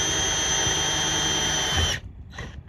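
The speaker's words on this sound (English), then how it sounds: "we're just going to pre-drill each hole through the tape" A power drill with a 1/8 bit pre-drilling a hole through tape, whining loudly and steadily for about two seconds before stopping, followed by a brief faint spin-down whir.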